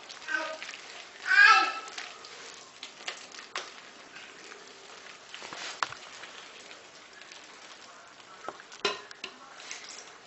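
Pancake batter scraped from the sides of a mixing bowl, giving soft irregular scrapes and taps with a brief louder swish early on, heard close against quiet room noise.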